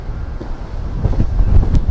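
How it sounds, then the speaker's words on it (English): Strong wind buffets and roars across the microphone on a street in the old town of Kuşadası, gusting louder toward the end with low rumbling bursts. "Wow, this is windy here."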